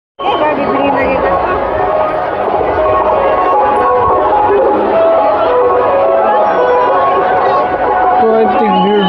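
Dense, loud crowd babble from a large gathering at a Shiv Mahapuran katha in Kokpur, Kanker, on the sixth day, with a preacher. Many voices blur together into a constant hubbub that runs for the whole stretch.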